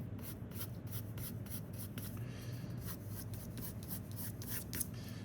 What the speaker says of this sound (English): I'm kind of flicking the pencil as I draw